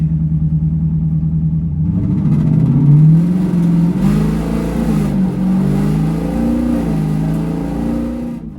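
A Dodge Challenger's stock 392 V8 revs through its exhaust, heard close up with the windows closed: a deep, loud rumble climbing in pitch, holding, then sweeping through several more throttle blips over a continuous burbling idle.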